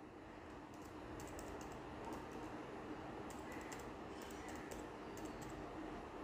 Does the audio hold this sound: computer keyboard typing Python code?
yes